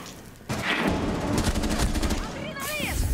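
Gunfire in Rainbow Six Siege, a burst of rapid automatic shots that starts abruptly and runs for about two seconds, loud and close, with a voice cutting in near the end.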